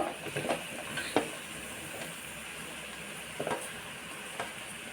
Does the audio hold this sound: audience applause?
no